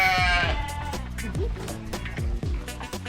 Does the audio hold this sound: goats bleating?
yes